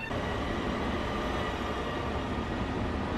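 Long Island Railroad train at a station in Train World Sim 2020, a steady loud rumble of rolling rail noise throughout, alone without talk.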